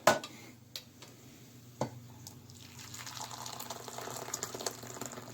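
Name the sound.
pouring boiling water to mix gelatin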